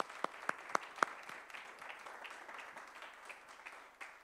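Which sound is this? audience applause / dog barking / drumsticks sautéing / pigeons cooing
audience applause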